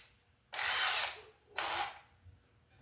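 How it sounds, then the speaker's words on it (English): A handheld power drill at a wall during a switched outlet install with wiremold: two short bursts of whirring motor, the first about half a second longer, separated by a brief pause in a quiet room. "So let's get a drill."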